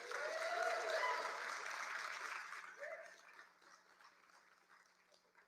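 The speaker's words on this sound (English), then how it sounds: "Please give Patrick a warm round of applause." Crowd applause at a political rally, a warm, sustained wash of clapping that gradually thins and fades over several seconds, with a brief voice heard mid-way.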